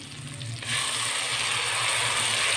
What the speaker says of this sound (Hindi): घी गरम है, इसको ज़्यादा टाइम नहीं देना, ठीक है नाज़रीन। अब इसमें हम डालेंगे 1 कप टोमेटो पेस्ट।